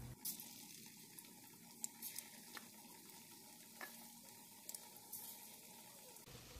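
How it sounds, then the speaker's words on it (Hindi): Sliced karela (bitter gourd) chips frying in a kadai of hot oil at home, a faint steady crackling sizzle with scattered small pops, heard close and alone. "अभी उसको लेके गरम तेल में उबलाएंगे।"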